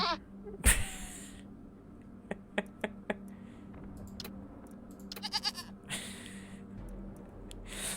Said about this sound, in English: Makes the goat sound.